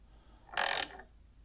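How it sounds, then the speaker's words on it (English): A ratchet with an 8mm socket loosens a mirror bolt on a 2024 Honda Gold Wing Tour DCT motorcycle, giving one short, close burst of clicking against a quiet background. "we're going to use this 8mm socket to loosen up"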